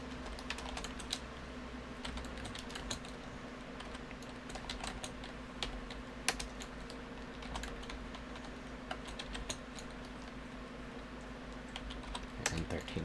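Steady, rapid clicking from a computer keyboard as someone types at a desk, close and fairly quiet over a constant low electrical hum, with occasional louder keystrokes.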